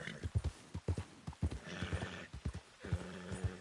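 A horse in Red Dead Redemption 2 gallops with a steady, rhythmic clip-clop of hooves, close and fairly quiet, with a brief whinny and faint background game sound.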